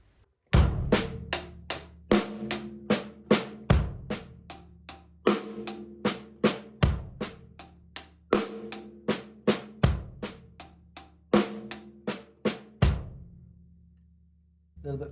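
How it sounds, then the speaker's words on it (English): A drum kit plays a beginner paradiddle pattern in steady sixteenth notes, with bass drum and accented snare hits landing on the downbeats; sharp, evenly spaced strokes ring out loud and close for about fifteen seconds with no talking. "just bringing up the bass drum and the snare drum on the downbeats"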